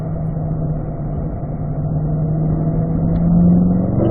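A Chevrolet C8 Corvette brakes and downshifts on a track, its engine note droning steadily, then rising with a faint rev as it slows for the corner, heard from inside the car.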